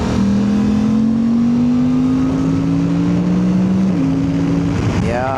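Suzuki V-Strom 800DE motorcycle with a DNA air filter under way, a steady loud engine drone with a rising tone, heavy wind rush, and a brief rev change near the end.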